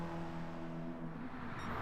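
A Mitsubishi Evo race car engine droning steadily on track, a sustained tonal hum with a slight dip in pitch over a short stretch, no voices.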